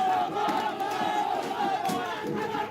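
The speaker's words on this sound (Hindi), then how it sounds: "इस दौरान बीजेपी कार्यकर्ता बघेल सरकार और प्रशासन के खिलाफ नारेबाजी भी करते रहे" A dense crowd of BJP workers shouts slogans outside a vote-counting centre, a loud, continuous roar of massed voices chanting together at close range.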